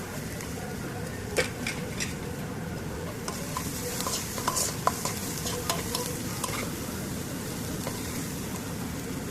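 Chopped onion and cabbage sauté in a pan for samba wheat upma, with a steady close sizzle and frequent scraping clicks from the spoon stirring through the vegetables. No voices are heard.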